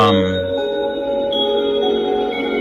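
The Mountain Morning chime from a Harmony wireless charger alarm clock rings out as bright, sustained bell-like tones that decay slowly over a couple of seconds, heard on its own.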